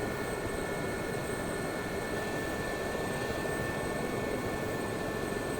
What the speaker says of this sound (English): We'll see if we did any damage with a close flyby.